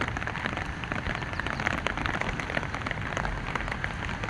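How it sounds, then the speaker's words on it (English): Heavy rain pours steadily onto a Nairobi rooftop in the evening, a dense, continuous hiss of drops drumming close by with no break and no voices. "guys, it's really raining"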